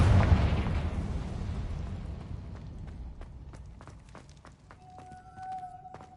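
A Confringo spell explosion in a video game: one loud, deep blast that rolls off slowly, followed by scattered small crackles and pops and a brief tonal ring as it fades.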